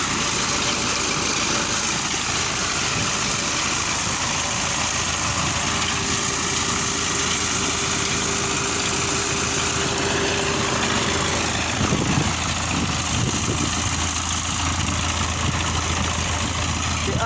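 A tractor engine drives a water bore pump on a farm, running as a steady mid-pitched idle with a constant low drone throughout, close and continuous.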